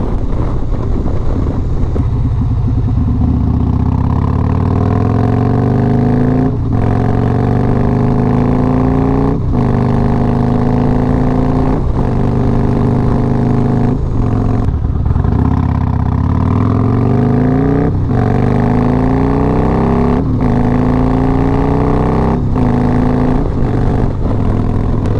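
A Harley-Davidson Road Glide motorcycle rides on a road, its mid-pitched engine loud and close, revving up and easing off in repeated surges with steady wind noise throughout.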